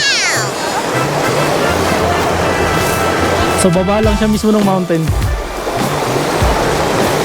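Rushing river water at Ala Archa in Kyrgyzstan, a steady broadband roar that runs through the whole clip under someone talking close by.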